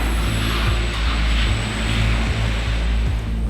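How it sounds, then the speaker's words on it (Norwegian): An airplane at Flesland airport in Bergen, a steady loud engine drone with a deep low rumble and a high whining tone, continuous and close with no talk. "Dette var bare et av mange fly som skulle ta fra Flesland denne morgenen"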